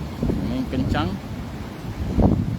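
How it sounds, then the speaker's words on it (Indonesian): Strong wind blows across the Bonto Bahari coast at Tanah Biru in Bulukumba during extreme weather with high waves, a steady rushing roar buffeting the microphone while voices talk over it. "Wilayah Kabupaten Bulukumba terus dilanda dengan angin kencang"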